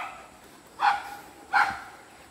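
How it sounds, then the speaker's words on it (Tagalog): Two sharp dog barks about a second apart, fairly close, with quiet background between them, at a campsite at Tagpuang Batis on Mt Parawagan, Rodriguez, Rizal. "Oh my god, may aso."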